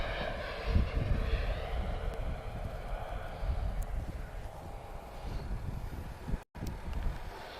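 A Star Alliance Airbus A320neo airliner at Lisbon Airport produces a steady, moderately loud jet-engine roar with wind rumble, continuous throughout with no talking.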